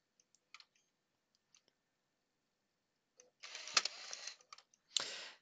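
A PS4 CUH-1216A console's disc drive clicks and whirs after a game disc is loaded, with faint scattered clicks at first, then two louder bursts of mechanical whirring and clicking close by.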